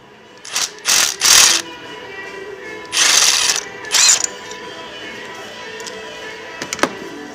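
Socket wrench working the coil bolt and spark plug on a Holden Commodore VE/VZ engine: several short ratcheting bursts in quick clusters, then light metallic clicks and taps, close and clear.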